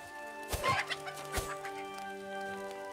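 A chicken in the Mirthwood video game clucks a few times up close, short throaty bursts over a steady humming game background.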